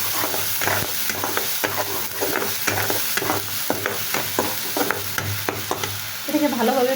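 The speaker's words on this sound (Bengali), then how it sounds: "তো আমি এখানে ভালোভাবে ভেজে নিচ্ছি" Onion, green chili and garlic paste fries in soybean oil with a steady sizzle, broken by regular scraping strokes of a spatula stirring the pan, close and fairly loud, with no talking.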